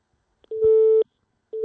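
A telephone busy tone after a call has been cut off: a steady, clear mid-pitched beep sounds once, then a second beep begins after a short silence, with nothing else underneath.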